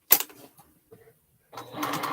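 A sewing machine stitches fabric for a quilted bear, with a brief burst near the start, then quiet, then a steady whirring run.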